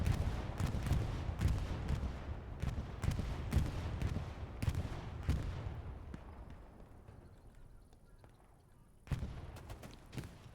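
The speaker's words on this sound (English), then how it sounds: "Bombing run coming over windmills." A bombing run in the World War II shooter Hell Let Loose on the Kursk map, with a rapid series of booming explosions and gunfire cracks that fade into quieter distant rumble, then another sharp blast near the end.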